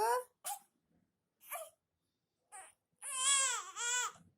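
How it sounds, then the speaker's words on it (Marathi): A hungry baby cries in several short bursts, then breaks into long, loud wailing near the end; an adult voice speaks between the early cries. "कसं लळतं ग पोरगं माझं भूक लागली पिल्लूला"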